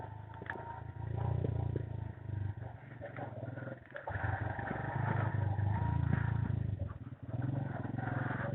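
A motorcycle idles and rumbles along a narrow pedestrian footpath near Narar Waterfall in Kahuta, its engine note steady and moderately loud with brief dips, with no talking.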